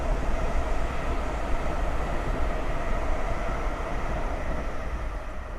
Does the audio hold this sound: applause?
no